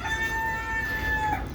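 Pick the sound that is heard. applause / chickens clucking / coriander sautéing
chickens clucking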